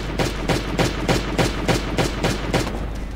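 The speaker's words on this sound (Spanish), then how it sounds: "buenos disparos" Gunfire from the Last Day On Earth: Survival video game: a rapid, evenly spaced series of about ten loud shots over roughly three seconds, with no voices.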